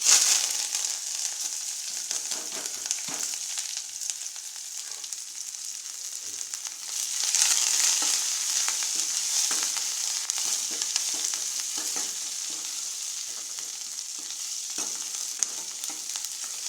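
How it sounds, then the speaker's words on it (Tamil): Mustard seeds, chopped onion, dried red chillies, curry leaves and coriander tempered in hot oil for onion sambar, giving a steady close sizzle with fine crackles that swells briefly partway through, with no voices. "கடுகு பொரிஞ்சாலும் நம்ம அரிஞ்சு வச்சுருக்கிற வெங்காயம், வரமிளகா, கருவேப்பிலை, கொத்தமல்லி போட்டு நல்லா தாளிச்சுக்கலாம்"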